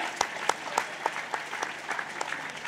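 An audience at a meditation gathering claps in a fairly quiet, sparse, rhythmic series of sharp hand claps, with individual claps clearly separated, heard at moderate distance.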